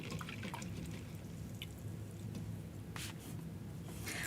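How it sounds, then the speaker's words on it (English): A paintbrush is rinsed in a water cup between paint colors, giving a soft, close swishing and dripping with small splashes over a steady low wash of noise. "So rinsing the brush this time."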